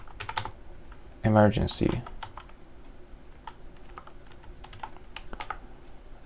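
Someone types on a computer keyboard to add an HTML paragraph tag, giving a close run of quick key clicks with a short clattering burst. A person speaks over and between the keystrokes.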